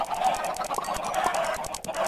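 Chickens in the Minecraft video game cluck and squawk in rapid, repeated bursts, a busy near chorus of clipped bird calls running throughout.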